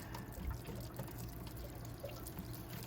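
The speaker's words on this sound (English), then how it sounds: "We'll let the water heater drain" Water pours out of a Suburban RV water heater as it drains, a steady, continuous rushing stream, fairly quiet and unbroken, with no voices.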